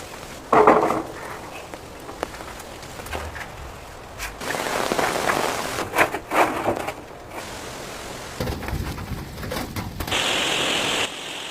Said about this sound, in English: Of course, the rain came at an unfortunate moment.